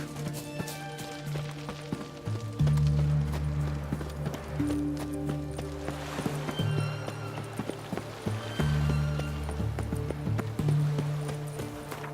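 Roach the horse gallops in The Witcher 3, hooves beating a steady clip-clop rhythm up close over a low ambient game drone, with no voices.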